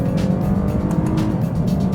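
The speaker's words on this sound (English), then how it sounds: "The shifts are nice and quick. You can pop it down a gear," Engine of a 2014 Lexus IS 350 F Sport with an 8-speed automatic, heard from inside on a winding road, a steady loud drone with shifting pitch as it drops a gear, alone without talk.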